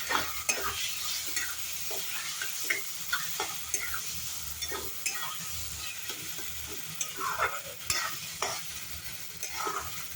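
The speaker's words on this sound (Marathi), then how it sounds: "यामध्ये चवीनुसार मीठ ॲड करू. हे एकत्र करून घेऊया." Salt being stirred into Maharashtrian baingan bharta, mashed roasted eggplant, in a pan: repeated close scraping strokes of a spoon with an irregular rhythm over a soft, steady sizzle, with no talking.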